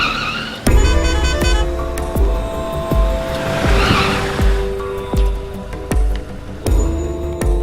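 A car braking hard with tires skidding and squealing, a loud, close screech that starts abruptly and holds with a steady engine drone and repeated thumps beneath it.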